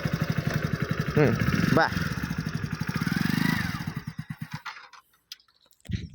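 A motorcycle with an unserviced engine putters at idle with a rapid, close thump, revs up a couple of times, then cuts out and restarts while a person speaks briefly over it.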